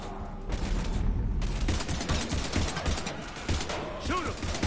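Heavy gunfire in the Mass Effect 3 video game, sustained bursts of automatic shots rattling loudly and continuously over a dense battle din, with game voices shouting in the mix.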